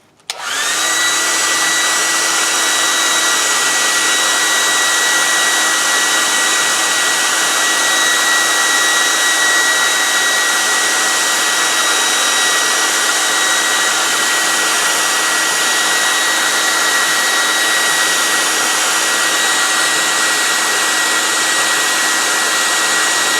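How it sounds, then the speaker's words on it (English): A handheld hair dryer blows steadily to dry glue on a bottle-top craft piece, switching on abruptly and then holding a loud, constant whooshing roar with a faint whine throughout. "I'm gonna speed that up a little bit with this hairdryer."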